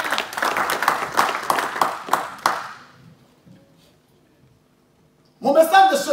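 A church congregation at a Sunday service claps in a burst of quick, scattered applause. The clapping fades into near silence before a voice begins speaking.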